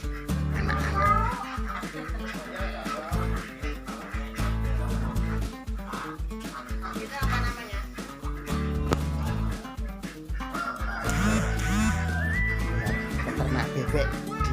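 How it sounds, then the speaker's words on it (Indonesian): Ducks on a duck farm in Pakem, Yogyakarta, quack and chatter busily throughout, mixed with other farm animal calls and nearby voices. "Peternak bebek di daerah Pakem."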